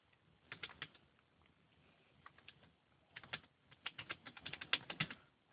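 Quick bursts of keystrokes on a computer keyboard, clustered in uneven runs with short pauses between them, close and fairly quiet, with no talking.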